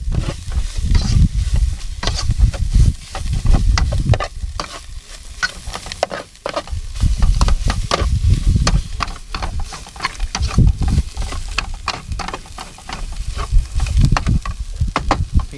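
Chili paste stir-frying in a pan for a pork curry, with loud continuous sizzling and spatula scraping and stirring strokes up close, no talk.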